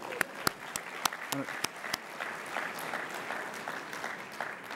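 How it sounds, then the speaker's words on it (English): Audience applause at a charity campaign closing celebration, a steady wash of clapping from a crowd with a few sharper nearby claps standing out, moderately loud and continuous throughout. "Let's give them a great round of applause."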